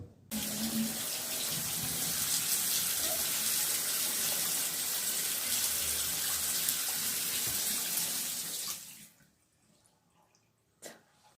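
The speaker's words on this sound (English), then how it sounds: "Today our water faucet broke." Water gushes steadily from a broken bathroom faucet, a loud continuous rush for about nine seconds that then cuts off abruptly, leaving near silence with a brief faint knock near the end.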